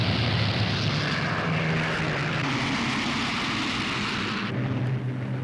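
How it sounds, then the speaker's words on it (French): Boeing B-17 Flying Fortress bombers take off from airfields in southern England, a loud, continuous roar of piston engines and propellers filling the whole stretch, with the tone shifting slightly near the end. "Boeing B-17, les forteresses volantes, décollent d'une vingtaine d'aérodromes disséminés dans le sud de l'Angleterre."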